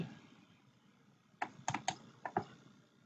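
Keys on a computer keyboard are tapped in a quick burst of crisp, close clicks after a quiet pause, a short typing run in a quiet room with no speech.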